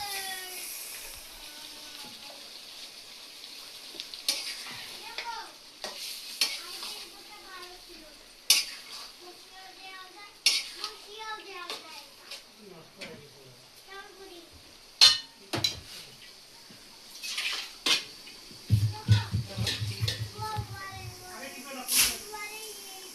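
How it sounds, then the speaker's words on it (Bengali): Spoon scraping and clinking around a pot as beef for haleem is stirred, with light sizzling beneath and a person talking over it. "এখন আমি মাংসটা নেড়ে নেব।"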